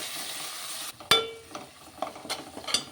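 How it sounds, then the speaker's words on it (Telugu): Ginger garlic paste frying in a pan for mutton curry, a soft broadband sizzle at first, then a sharp utensil clank and a few scattered scraping stirs, fairly close and moderately loud with no talk. "అల్లం వెల్లుల్లి పేస్ట్ కూడా పచ్చివాసన పోయేంత వరకు ఫ్రై చేసుకుందాం."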